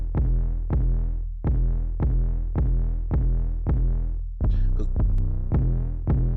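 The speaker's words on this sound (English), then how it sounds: "I just boosted the low ends so it can sound meaty" A heavy bass-boosted beat thumps in a steady rhythm, deep booming kicks about twice a second, loud and close, with a brief crackly fill midway.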